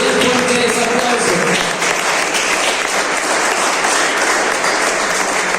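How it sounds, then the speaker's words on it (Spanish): Loud, dense applause from a church congregation during a worship service, steady and sustained throughout, with a few voices briefly audible at the start. "Si es por el Señor, bien fuerte ese aplauso"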